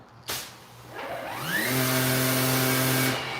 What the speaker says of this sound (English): Let me hit the pressure washer real quick.